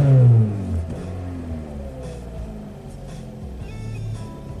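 Car engine revving hard at wide open throttle right after welding repairs, a loud rising growl at the start that settles into a steady, clattering idle-like hum.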